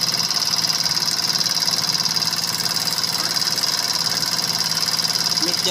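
A 70cc petrol motorcycle engine runs with its revs raised while the mixture is being set, a steady buzzing drone with a fast knocking pulse, close and continuous throughout.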